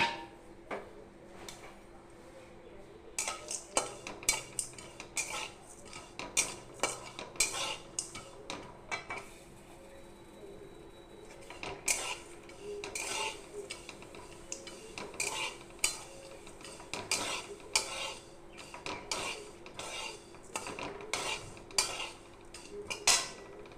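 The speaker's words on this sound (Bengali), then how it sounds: "এবার আমি কড়াই বসিয়ে দিয়েছি, এর মধ্যে একটু বাদাম আর তিল আমি একটু ভেজে নেব এর সঙ্গে" Peanuts and sesame seeds being roasted in a metal wok, with a spatula scraping and clinking against the pan in irregular bursts over a quiet background, up close and moderately loud, with no talking.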